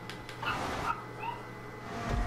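A dog in a racing video game lets out a short, high whimpering yip over steady engine and game noise, fairly quiet and brief, with no one talking.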